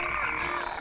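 A frog creature in the video game Pikmin 2 lets out a single short, resonant croak, close and clear, with no talking over it.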